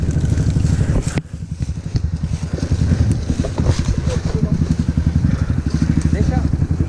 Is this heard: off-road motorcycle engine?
yes